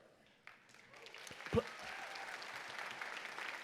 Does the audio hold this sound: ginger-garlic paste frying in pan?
no